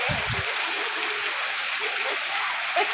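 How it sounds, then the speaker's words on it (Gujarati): Rain falling in a village in Gaghar taluka, Bhavnagar district, heard as a steady, dense wash of hiss with a brief low rumble at the very start. "અમારા ગામમાં વરસાદ પડી રહ્યો છે."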